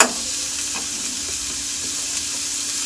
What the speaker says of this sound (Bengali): আমি পেঁয়াজটা ভেজে নিব।